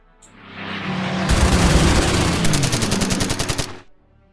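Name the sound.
dubbed heavy machine gun fire for Spitfire's light guns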